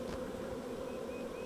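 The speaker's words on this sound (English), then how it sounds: "The bees that are reforming on the limb here are pretty runny" A massive honeybee swarm reforms on a tree limb, giving off a steady, dense hum of many bees close by that stays even from start to finish, with no voices over it.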